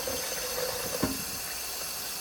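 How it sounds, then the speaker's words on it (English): Tap water runs steadily into a kitchen sink as a vegetable is given a quick rinse, a continuous hiss and splash heard alone at close range. "I'm going to go ahead and give the vegetable a quick rinse"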